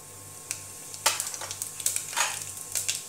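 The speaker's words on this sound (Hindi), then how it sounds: "तेल हमारा अच्छे से गर्म भी हो चुका है, इसमें हम डालेंगे आधा चम्मच करीब जीरा" Cumin seeds hit hot oil in a pressure cooker, giving bursts of crackling sizzle and popping that grow busier after the first second, close up with no voices.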